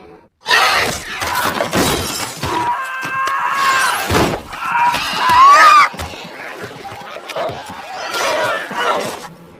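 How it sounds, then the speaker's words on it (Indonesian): A window's glass shatters loudly with bright, crashing bursts and tinkling fragments, mixed with dramatic effects and brief vocal sounds, from the film I Am Legend (2007). "Taunya jendela di situ hancur."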